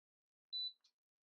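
Automatic hair curler with an adjustable 8, 10 or 12 second timer gives a short, faint high-pitched beep, then a brief softer chirp, in a quiet room.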